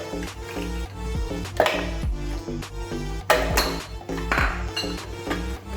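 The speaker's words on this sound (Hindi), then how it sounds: "तब हमने इसके अंदर बर्फ़ डाल देनी है।" Ice cubes go into a glass for homemade cherry juice, giving several bright clinks and knocks over steady music, with a few louder hits spaced across the clip.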